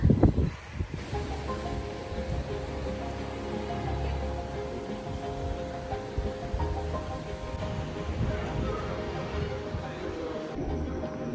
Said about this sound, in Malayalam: ഭയങ്കര നല്ല കാറ്റുണ്ട്.